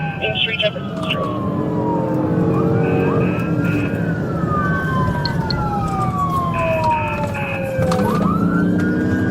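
Police sirens wail and yelp loudly during a high-speed pursuit on US 35, their rising and falling sweeps over a roaring engine and road noise, with a voice speaking underneath.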